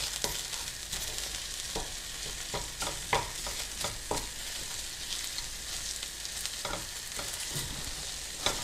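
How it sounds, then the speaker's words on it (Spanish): Cheese melting in a frying pan over medium heat, a steady broadband sizzle with scattered soft stirring clicks and pops, close and continuous with no talk. "van a ver cómo se empieza a derretir estos quesitos que le pusimos"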